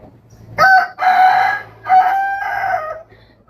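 A rooster crows nearby, a loud, clear cock-a-doodle-doo in drawn-out calls over a few seconds, with faint background noise and no talk.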